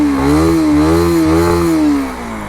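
Bajaj Pulsar NS 160 motorcycle engine after a service, revved up and down in smooth swells close by, loud and buzzy before dropping back toward idle, with no talking.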